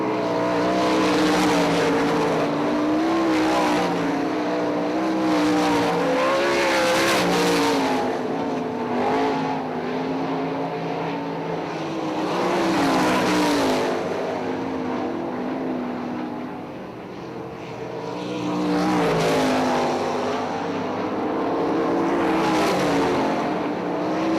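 Sprint cars race on a dirt speedway oval, their engines roaring loudly and continuously, the pitch rising and falling in waves as the cars pass, with no talk over it.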